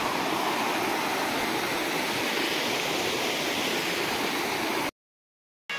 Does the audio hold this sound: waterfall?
yes